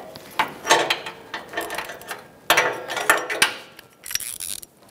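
A socket wrench strains against an O2 sensor on a Toyota RAV4 2.5L I4, giving close metallic clicks, ratcheting and knocking bursts in an uneven rhythm with brief pauses between efforts.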